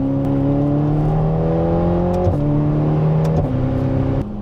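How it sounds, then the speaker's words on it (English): A Ferrari Portofino with a paddle-shift gearbox revs through quick upshifts, its engine note rising and then dipping sharply at each change, loud and sustained with no talk. "On the upshift, the Portofino paddle shift is almost perfect."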